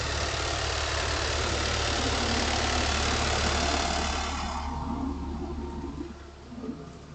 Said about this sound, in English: Gotta get out of the way of the truck.